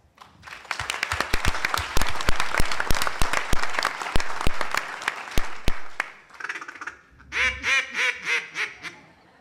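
Audience applause greets a speaker at a student business competition finals, a dense burst of clapping that fades out and is followed by several loud, rhythmic duck-call quacks blown up close.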